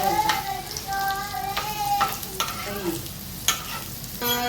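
Kolim shrimp fritters (vadi) fry in hot oil in a pan for an Agri-style recipe, a steady close sizzle broken by a few sharp utensil clinks as pieces are turned.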